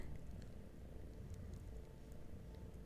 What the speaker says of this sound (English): So you can probably hear her purring.